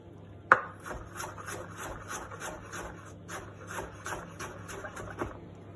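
Knife slicing pork into thin strips on a board: a sharp tap at the start, then a quick, even series of soft cuts and scraping strokes, close and fairly quiet.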